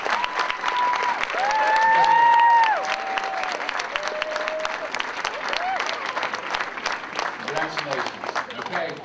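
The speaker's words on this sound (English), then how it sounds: "So everybody, let's give a round of applause." A crowd in a high school gym applauds athletes and their parents at a national signing day, a steady wash of clapping with a few whoops and squeaky sneaker sounds, then speech begins toward the end.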